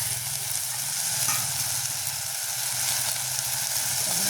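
Vegetables sauté under a lid in a covered pan, giving a steady, continuous sizzle with a soft hiss throughout, fairly close and even, with no talking.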